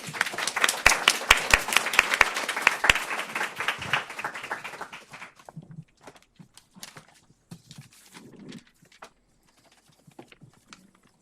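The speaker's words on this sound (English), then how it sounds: "I'd like to ask for your applause now" An audience claps for a conference panel in a lively burst of dense applause that thins after a few seconds into scattered individual claps before fading to near silence.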